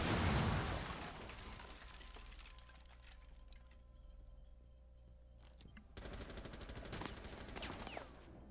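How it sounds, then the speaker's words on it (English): Breach charge blown through a floor in Rainbow Six Siege, a loud blast up front that settles into low rumble and game noise, followed by a second burst of activity later. "Placing breach charge. Fire."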